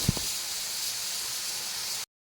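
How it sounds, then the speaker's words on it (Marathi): A pressure cooker vents steam in a home kitchen, a continuous even hiss that starts with a couple of short knocks and runs for about two seconds before stopping abruptly. "दुसरीकडे ना कुकरच्या शिट्ट्यासुद्धा चालू झालेल्या आहेत"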